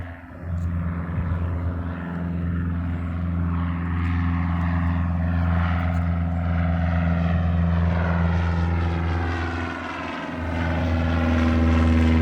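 Small propeller airplane taking off from a short airport runway in Morristown, Tennessee, its steady droning engine holding loud and continuous, swelling slightly near the end as it climbs away.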